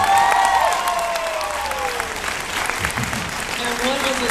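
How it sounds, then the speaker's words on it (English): A convention panel audience applauds and cheers for a guest, a sustained loud wash of clapping with scattered whoops, and a voice faintly audible underneath. "So everybody give Danny a big round of applause,"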